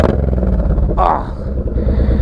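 A Honda VTX 1800 motorcycle fitted with a K&N air filter rumbles loudly and deeply up close, with a brief throttle blip partway through before settling back into a heavy idle.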